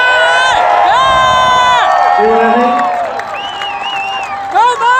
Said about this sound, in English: every time I introduce him, he gets the biggest applause.